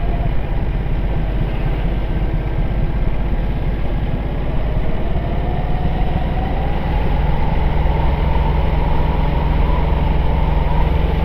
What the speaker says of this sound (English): Obviously less peaceful with a 1200 Ducati riding through it